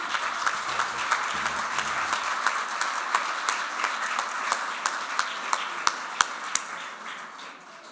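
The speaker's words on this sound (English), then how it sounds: "If you can't clap because it was good, clap because it's over" Applause fills a room after a joke at a meeting, a steady wash of many hands clapping with a few sharp louder claps standing out near the end.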